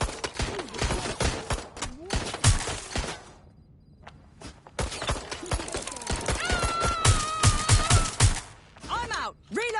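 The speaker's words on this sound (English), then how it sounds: "They're shooting!" Gunfire in the video game Watch Dogs Legion, with repeated sharp shots in bursts and scattered single cracks, broken by a quieter pause before the firing resumes, with voices talking over it.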